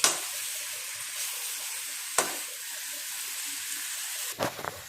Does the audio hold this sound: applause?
no